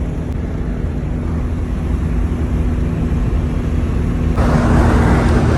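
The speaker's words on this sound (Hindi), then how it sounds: "नाजरीन आपको शोर बहुत आ रहा होगा क्योंकि हम सफर कर रहे हैं मेहरान गाड़ी में" Steady, loud road noise fills the interior of a Suzuki Mehran car on the move, a constant low rumble that swells a little louder near the end, with no voices.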